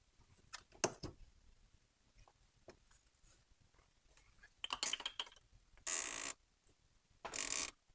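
Ratchet clicking while a strut bar comes off a Nissan S13: scattered faint clicks and taps, then two loud bursts of rapid ratcheting, each about half a second long, with no talk.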